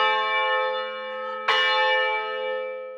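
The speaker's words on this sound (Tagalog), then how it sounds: "kapag umalingaw-ngaw na ang mga kampana mula sa kampanaryo nito" An antique church bell rings from the belfry of a church in the La Paz district of Iloilo. A single loud, close strike lands midway, and its long, sustained tones hum on before and after.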